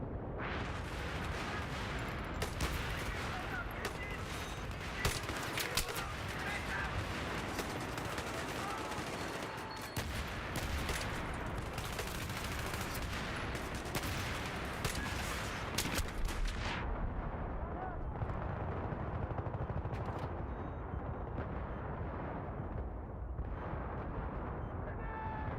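Suppressed AUG A3 rifle fire in the video game Battlefield 3, a steady dense clatter of muffled shots mixed with other battle noise and blasts, going on for most of the stretch before easing off.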